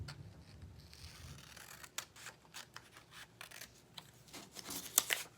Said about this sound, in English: So I'm just going to cut these out.